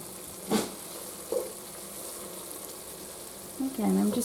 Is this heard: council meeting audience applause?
no